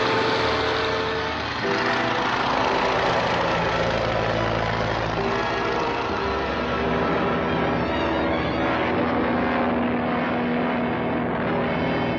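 A loud propeller aircraft engine drones steadily, a deep throbbing roar that swells slightly and holds throughout.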